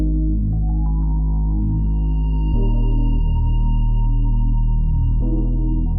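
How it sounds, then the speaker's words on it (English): A sustained synth bell tone with long reverb tails and delay echoes, sitting soft and distant over a steady low drone. "for this bell, I really want it in the background, so I'm going to put a lot of reverb on it"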